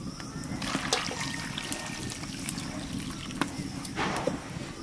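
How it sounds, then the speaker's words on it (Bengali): Hot water poured into a cooking pot of hilsa fish, a continuous close splashing trickle with a few brighter splatters, steady and fairly loud throughout. "এবার এই যে গরম জলটা দিয়ে দিলাম,"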